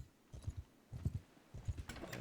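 Horse hooves clip-clopping in Mount & Blade II: Bannerlord, a few quiet, evenly spaced clusters of hoofbeats at a walking pace, faint and alone.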